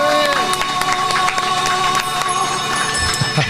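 A studio audience on a French television show applauds and cheers for a guest, a dense continuous wash of clapping and crowd noise with scattered shouts throughout.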